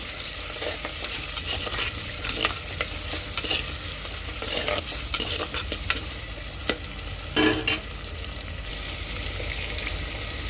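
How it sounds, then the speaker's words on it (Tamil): Onions and curry leaves sauté in a pan for a Tamil fish curry, a steady close-up sizzle and frying hiss with scraping stirs throughout. "ஸோ வெங்காயத்தை போட்டு கருவேப்பிலையை போட்டு நல்லா வதக்குங்க."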